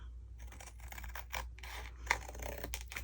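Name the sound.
cutting cereal box cardboard to straighten the cut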